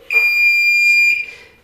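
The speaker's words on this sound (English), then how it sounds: "the first thing that's tested is the buzzer" Consumer device buzzer sounding during a diagnostics test, a single sharp high-pitched electronic tone held for about a second, close and loud.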